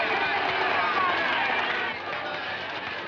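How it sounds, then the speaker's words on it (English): A large crowd waits at a 1940s road show before a lion-taming act, a dense, steady roar of many voices and babble filling the space, slightly easing toward the end. "What a crowd."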